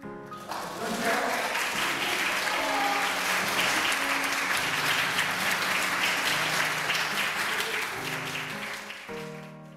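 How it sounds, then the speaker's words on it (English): Sustained audience applause for a Sichuan mala tang (spicy hot pot) shop owner, loud and dense for nearly ten seconds with faint tonal music underneath, fading out at the end. "The first stage had tons of applause"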